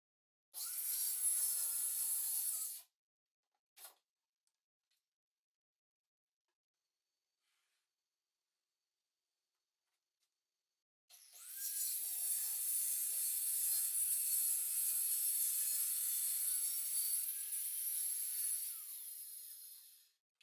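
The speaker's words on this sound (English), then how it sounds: "The blade I have on this saw is for cutting rough lumber." A saw with a rough-lumber blade cuts along a masking-taped line on a board: a short burst of harsh, hissing cutting, a long pause, then a sustained, loud cut of about eight seconds.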